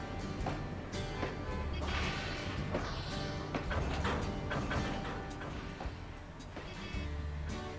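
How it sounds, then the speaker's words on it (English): Passing car traffic in the Trainz railway simulator game, a continuous low rumble with swells and clunks, steady and mid-distance, no voices. "Why do I hear cars but I don't see cars?"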